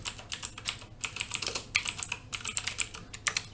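Quick bursts of keystrokes on a computer keyboard as a switch configuration command is entered, crisp close clicks in uneven runs with short pauses, no talk.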